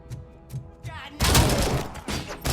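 Gunfire in the Robocop Rogue City video game: a few short muffled thumps give way to a sudden loud burst of rapid shots and crackling impacts that continues to the end.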